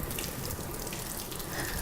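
Cold water runs from a kitchen tap into a sink, a steady, close hiss of flow lasting a couple of seconds without any voices.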